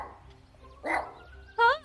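A cartoon dog barks in the Roblox Berry Avenue game, giving a couple of short yips over a steady low background hum, with a voice speaking softly around it.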